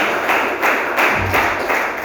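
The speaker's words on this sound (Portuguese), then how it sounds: "exalta o Senhor Jesus com as palmas bem alegres" A church congregation claps their hands joyfully in a steady, brisk rhythm, loud and close, each beat a sharp broad smack blending into a continuous crowd of hands.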